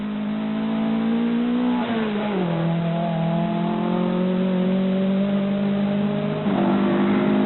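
A rally car engine from the 1983 NSW Rally Championship powers up a hill, loud and sustained, the pitch dipping and climbing through a gear change before swelling again near the end.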